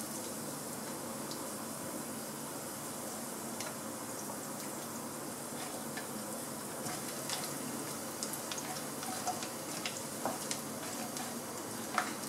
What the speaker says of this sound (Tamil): ஆட் பண்ணி நல்லா ஃப்ரை பண்ணி எடுத்துக்கலாம்